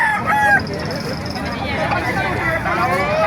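A rooster crows amid a noisy crowd of poultry and people at a chicken market in Calumpit, Bulacan, with clucking and a busy babble of voices throughout.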